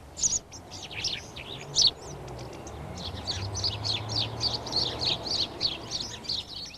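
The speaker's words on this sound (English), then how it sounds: "House sparrows. For many of us, perhaps the most familiar of the birds in our garden." House sparrows chirp in a garden, a busy chatter of bright repeated chirps from several birds, close and clear over faint background noise.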